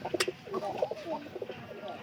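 A domestic pigeon kept on a straw nest gives soft, low cooing in a short burst of throaty pulses, close and fairly quiet, with faint background noise.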